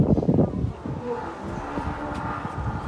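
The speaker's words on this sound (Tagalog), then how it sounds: "Ah, sarap ng hangin." Outdoor wind blows steadily as a soft broadband rush, fairly close to the microphone, with some low rumbling gusts early on and no talk over it.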